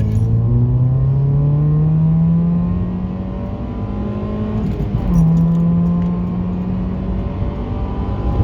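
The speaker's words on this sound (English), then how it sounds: "This car just takes off like a rocket." A small naturally aspirated 1.5 litre car accelerates hard at a track day, the engine note climbing loud through a gear, dipping briefly at a shift, then rising again.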